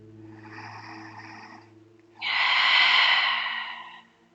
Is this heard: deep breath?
yes